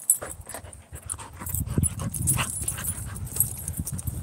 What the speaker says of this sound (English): He's a fun dog.